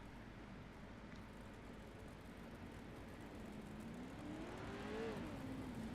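Race cars and trucks at a demolition race build engine noise from a low distant drone into a rising rev that swells and falls near the end, faint and without talk.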